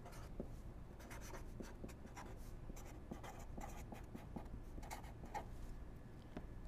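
Pen or pencil scratches across paper as a name is written out, faint close-up strokes in quick irregular bursts with small taps between letters.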